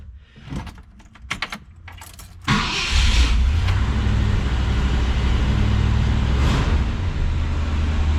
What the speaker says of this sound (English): I think I'll get the engine started.